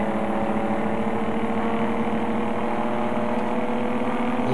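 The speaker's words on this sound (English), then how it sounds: "Listen to that engine." Oshkosh Defense HEMTT A4 military truck engine under way on the road, a steady loud low drone and hum from inside the cab with no talk.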